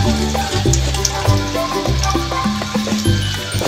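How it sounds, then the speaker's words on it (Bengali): Chicken pieces being sautéed in oil with a little sugar in a home kitchen pan, a close, continuous sizzle and bubbling with faint stirring, under steady background music. "এটা এখন কষানো হবে আর শুনেছেন, আরও একটু ভালো করে কষানো হবে।"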